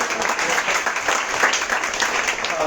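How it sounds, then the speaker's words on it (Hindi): Moderate applause from a church congregation at a Sunday evening worship service, welcoming a preacher to the front; a brief, fairly even patter of clapping with no talk over it. "तालियों के साथ उनका स्वागत करेंगे"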